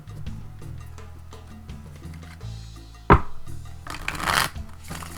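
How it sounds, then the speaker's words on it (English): A deck of tarot cards is shuffled with a few quick riffles and soft flicks up close, followed by a sharp snap and a brief rustling burst, over a low musical background. "let me just shuffle a few more times"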